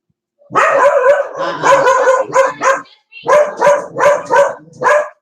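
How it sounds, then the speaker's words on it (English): A dog barks close and loud in a home, a run of rapid overlapping barks followed by a pause and then five separate, evenly spaced barks with no talking. "Yeah, Chris, when my dog stops barking"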